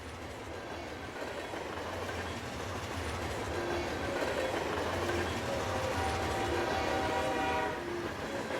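Train rolling along as a steady, continuous rumble with rhythmic clickety-clack and a faint horn tone, holding at moderate volume throughout with no talking.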